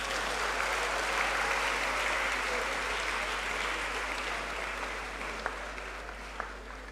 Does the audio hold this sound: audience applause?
yes